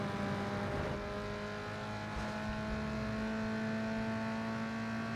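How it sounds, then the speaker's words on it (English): Turbocharged opponent cars roar and rev in a Need for Speed Underground 2 street race, a continuous engine drone with gear changes and some whooshing passes. Individual blow-off valve sounds are hard to pick out in the steady game audio. "I can hear their blow-off valves going."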